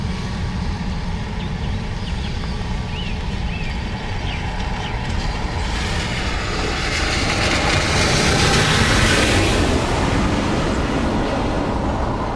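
An Aer Lingus airliner arriving from Heathrow at Dublin Airport, a steady loud broadband jet roar that swells and brightens toward the end of the pass, with no talk over it.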